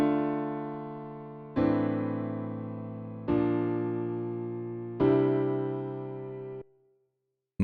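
Four sustained piano-like chords ring out one after another at an even pace, each with its middle note raised an octave, every chord decaying before the next strikes, with no voice present.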